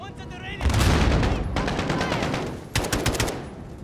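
Rapid automatic gunfire from the video game Call of Duty: Modern Warfare comes in loud, dense bursts, with a short pause before a final volley of sharp shots.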